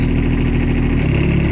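A Rippa R13 Pro mini excavator runs its hydraulic thumb, the engine droning steadily and loudly up close with a slight drop in pitch partway through.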